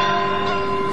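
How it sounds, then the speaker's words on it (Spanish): Church bells ring out in a steady, loud, resonant tone calling people to Sunday mass, sounding alone for about a second. "toca las campanas"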